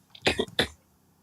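A short, close throat-clearing cough in two or three harsh bursts, then quiet.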